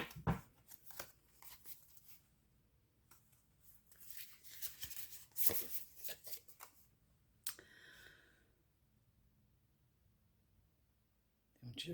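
A deck of tarot cards is shuffled and cut by hand, giving soft, quiet riffling and papery flicks in irregular bursts, with faint breathy sounds and a few louder card snaps between.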